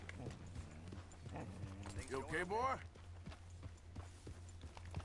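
Horse hooves clip-clop in the video game Red Dead Redemption II, a steady walking rhythm of soft hoofbeats close by, with someone speaking briefly over them.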